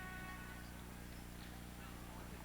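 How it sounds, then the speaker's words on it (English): Hooves of a paint horse and a quarter horse clop faintly along the street in a small-town Iowa centennial parade, steady and distant beneath outdoor crowd noise. "Horse is a paint, and the other horse is a quarter horse."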